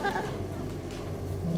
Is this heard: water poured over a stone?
no